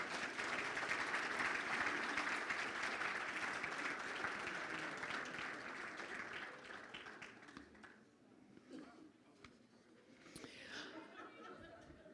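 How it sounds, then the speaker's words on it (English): An audience at a fire division's annual awards banquet gives a round of applause with scattered laughter, clapping thick at first and then tapering off after about eight seconds, followed by a few stray claps. "one more round of applause since the whole group made it to the front here"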